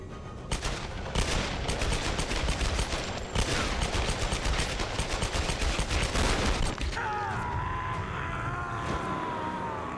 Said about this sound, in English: Pistol Lara.